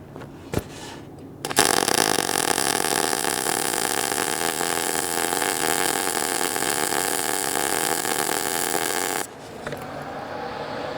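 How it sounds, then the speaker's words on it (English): A steady, loud buzzing crackle from MIG welding at a 30 inches per minute setting runs unbroken for several seconds after a short lead-in, then cuts off to a quieter background hum. "I think it's going to sound like a quieter weld with a little more fluidity."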